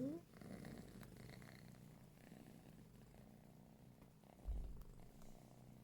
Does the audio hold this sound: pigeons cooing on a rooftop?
no